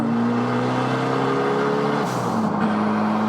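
A race car on its first lap out of the pits at the Little Talladega track drones with a steady, loud engine tone that shifts pitch slightly as it runs, close and continuous, with no voices.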